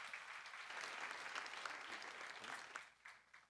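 Congregational applause in a Korean church during a sermon on the Psalms: a dense, steady patter of many hands clapping together, thinning out toward the end, with no voices over it.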